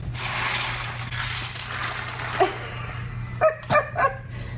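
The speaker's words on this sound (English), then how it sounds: "You crazy dog." A dog recovering from surgery with stitches gives several quick, close barks near the end, preceded by a faint whimper over steady indoor hum in a home kitchen.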